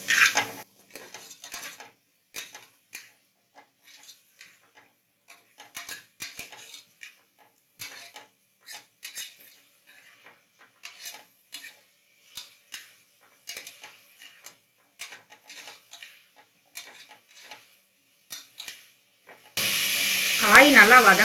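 Mixed vegetables for South Indian sambar are stirred in a pan with sparse spoon clinks and scrapes, then a loud hissing sizzle of sautéing bursts in near the end.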